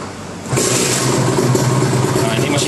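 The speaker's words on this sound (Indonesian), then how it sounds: "Nah, ini mesinnya udah jalan." A Kawasaki Ninja RR motorcycle engine catches and starts, then runs on in a steady, loud, close drone; a voice speaks over the engine noise.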